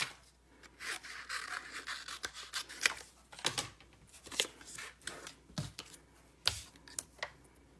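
Scissors cutting out a paper giraffe for a card, a quiet string of snipping and crisp paper rustles repeating unevenly throughout, close by with no talk.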